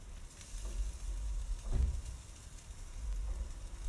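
Asparagus sizzling on a hot grill over a pan alongside a whole chicken and potatoes, a steady close crackling hiss with a brief louder flare in the middle, no talking.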